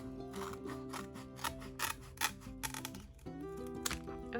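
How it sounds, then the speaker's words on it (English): Scissors snip through the gutter of an old book to remove its spine, giving close, repeated crunching cuts and creaks over a steady background hum. "Just work your scissors right into that gap in the gutter and then just cut it."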